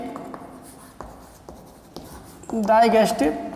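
Chalk or marker tapping and scratching across a board during a biology lesson in a classroom, a few sharp strokes at a steady pace, followed by a voice speaking close by.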